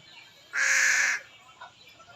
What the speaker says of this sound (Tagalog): bumaba na yung isang uwak